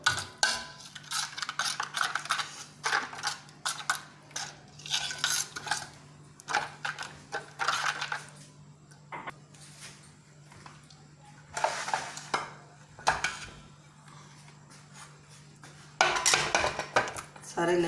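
Chicken leg pieces dropped into masala in a pot for a steam roast, a series of close metallic clanks and scrapes of a spoon against the pot in uneven bursts, with quiet gaps and a low steady hum.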